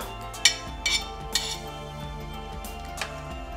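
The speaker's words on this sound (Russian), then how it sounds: "Разделенное на волокна мясо, теперь уже без костей, отправляем в наш очень-очень вкусный суп" Shredded boneless meat being tipped from a fork into a pot of Polish soup: a few light metallic clinks at irregular intervals, close and soft, over a steady low hum in the kitchen.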